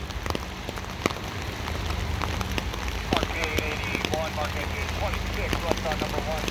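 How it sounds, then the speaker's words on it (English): Steady thunderstorm rain patters and splashes on hard surfaces beside railway tracks, with sharp drip ticks, a low rumble underneath and some faint chirps in the background. "it's raining, thunderstorm, rails are wet."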